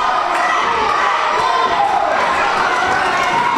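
A packed wrestling arena crowd roars and cheers in a dense, loud, unbroken wall of voices.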